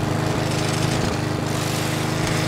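A lawnmower engine drones steadily in the video game Who's Your Daddy, a loud, continuous rattling buzz with no talk over it.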